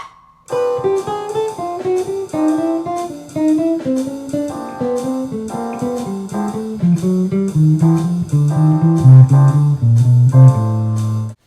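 A clean jazz guitar plays a steady stream of single notes, stepping downward chromatically in a bebop line, clear and close with no talking.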